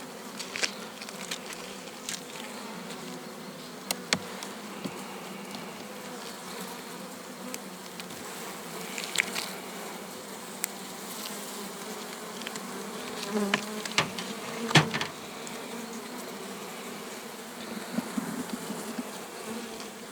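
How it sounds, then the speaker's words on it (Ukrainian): Many honeybees buzz steadily close by around a hive while bringing in pollen, a soft continuous hum with occasional louder passes of individual bees near the listener. "Бджоли багато, пилок пруть."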